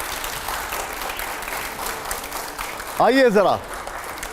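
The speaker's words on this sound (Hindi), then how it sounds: "जोरदार तालियां हो जाए जरा" A studio audience applauds on a TV9 interview set, a steady wash of clapping that runs for about three seconds before a voice speaks briefly over it near the end.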